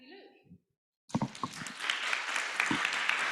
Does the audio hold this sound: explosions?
no